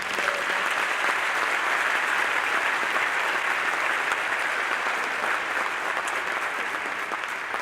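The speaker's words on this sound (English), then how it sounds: "If we could just give them a round of applause." An audience at a university public leadership awards event applauds school staff with sustained, dense clapping that stays loud and even for several seconds before easing slightly.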